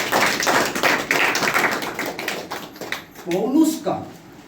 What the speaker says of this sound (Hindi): एक अच्छा ताली बजाएं प्रभु के लिए